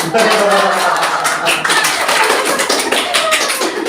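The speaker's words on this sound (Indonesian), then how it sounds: "Nanti dia ini lagi tepuk tangan dulu" Dense crowd applause at a Putri Hijab Lampung pageant, many hands clapping steadily and loudly throughout, with a few brighter claps standing out.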